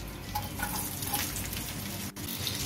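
Coconut and diced carrot sizzling in a pan for upma, a soft steady frying hiss with faint stirring scrapes, quiet and close.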